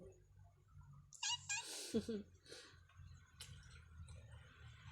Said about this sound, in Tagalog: Yung pusa ko dito maingay